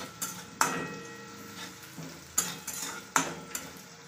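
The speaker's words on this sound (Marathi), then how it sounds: "आता आपण हिरवी मिरची टाकून घेऊया। हे 2-3 मिनिट फिरून घेऊया" A spoon scrapes and stirs green chillies frying in a pan for anda bhurji, with a steady sizzle underneath and several sharp metallic clinks against the pan, close and moderately loud, no voices.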